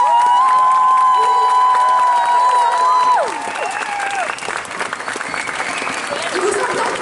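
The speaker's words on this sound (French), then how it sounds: "Mais sous un tonnerre d'applaudissements." An audience applauds and cheers costumed cosplay contestants gathered on stage at a Sunday cosplay contest, a dense steady wash of clapping with whoops, a long sustained shout rising over it early before settling into continuous applause.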